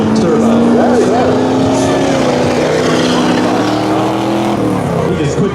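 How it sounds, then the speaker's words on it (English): A Ford diesel turbo truck at a street drag race roars loudly and close, with a sustained engine drone that shifts in pitch as it runs, under crowd noise and talking. "Okay, that's a Ford there. Of course. Ford diesel turbo."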